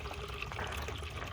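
Gray water pours from the waste valve of a 2022 Winnebago Travato 59K RV into a bucket, a short close gush and trickle of liquid splashing steadily for about a second.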